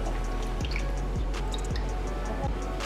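Sabudana (tapioca pearls) being washed in water in a home kitchen, with soft wet swishing and scattered drips over a constant low hum, a few faint repeated thuds as the pearls are handled.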